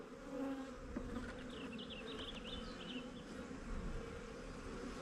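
Honey bees buzz around a hive frame that holds brood. The buzzing is a dense, steady drone of many insects, close but fairly faint, with no talk.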